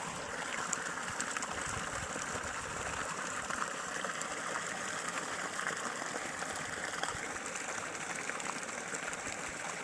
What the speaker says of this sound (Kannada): ನೀರು, ಗಂಗೆ ಉಗ್ತಾ ಇದೆ.